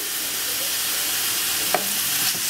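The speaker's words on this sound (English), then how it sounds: "And now we're going to add to our onion and garlic our ground lamb" Pasture-raised ground lamb sizzling in a pan with onion and garlic, a steady close hiss of frying with a couple of brief utensil scrapes near the end.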